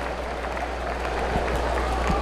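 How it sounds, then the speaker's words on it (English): A crowd applauds at a boys' 5A and 6A high school basketball all-star game, giving steady, moderately loud clapping over a low hum of the venue. "Let's give her and Team Black another round of applause."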